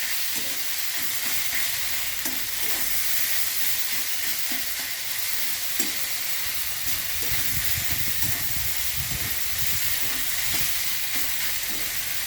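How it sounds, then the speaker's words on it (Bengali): Prawns fried with taro stems are stirred over a high flame, making a loud, continuous sizzle and hiss with repeated scraping stir strokes throughout. "চিংড়ি মাছগুলো মিশিয়ে দেবো বেশ ফ্লেমটা বাড়িয়ে দিয়ে শুকিয়ে নিতে হবে"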